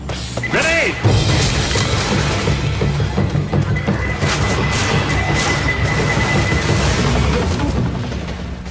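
Grenade blast in Left 4 Dead 2 during the No Mercy rehab level, a heavy crashing boom followed by sustained rumbling debris and chaotic game noise.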